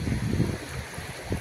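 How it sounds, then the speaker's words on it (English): Water flows through a fountain channel in the Nishat Garden in Srinagar, a soft continuous burbling wash that is close by and moderately quiet. "the water is flowing."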